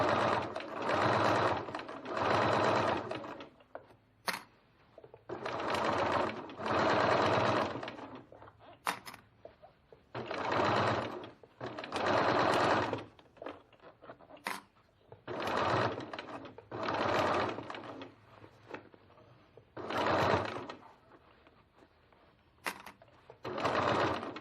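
A sewing machine stitches through the thick layers of a bowler bag during final assembly. Loud, steady bursts of whirring run in repeated runs with brief pauses and sharp clicks between them, and there is no talking.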